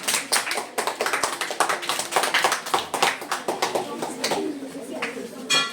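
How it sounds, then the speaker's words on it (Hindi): Applause for a child breaks out in a classroom, a steady flurry of many hands clapping close by, fairly loud and continuous with no one talking over it. "जोरदार तालियां भाई बच्चे के लिए"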